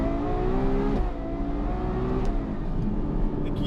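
A Ferrari 812 Superfast accelerates hard, its engine note climbing steadily, dipping briefly at a gear change, then pulling up again, loud and close throughout.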